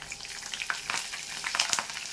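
Curry leaves hit hot oil for a green chicken curry and fry with a loud, close, crackling sizzle, with brief stirring scrapes running throughout and no voices.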